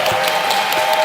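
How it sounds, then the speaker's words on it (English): Audience applause at QuakeCon, a dense, loud wash of clapping filling the whole short moment, with a steady tone running underneath. "Give them a round of applause."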